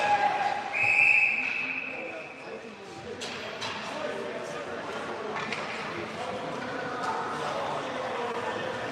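A referee's whistle blows at a youth hockey tournament game between the Peterborough Saints and Brooklin in an arena. One short, sharp blast comes near the start, followed by rink noise and voices talking.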